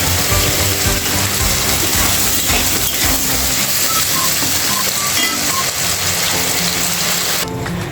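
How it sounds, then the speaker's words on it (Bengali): Steady, loud sizzling and crackling of potatoes frying in hot oil, continuous throughout with occasional stirring scrapes. "আমি এখন আলুটা ভাজছি।"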